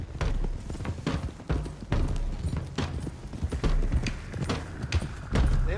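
Several horses gallop together in Red Dead Redemption 2, a loud, steady drumming of hooves close by with rhythmic clip-clop beats throughout and occasional snorts, without speech.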